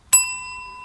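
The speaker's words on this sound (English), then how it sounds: "if you hit this little notification bell" A single bright bell ding strikes sharply, then rings on with a clear, sustained metallic tone that slowly fades.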